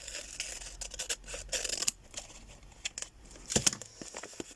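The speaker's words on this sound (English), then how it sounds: "You get your scissors there and it just glides along nicely." Scissors snip and glide through crinkly wrapping paper in a quick series of cuts, with rustling and crumpling between strokes, close and fairly quiet.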